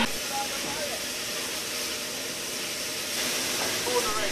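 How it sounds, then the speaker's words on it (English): A steam train on a heritage line comes to a stop with a broad, steady hiss of escaping steam, close and continuous, with faint rumbling underneath and a slight swell near the end. "waiting for Sapper to bring the train to a stop outside the special Zodor sweet shop"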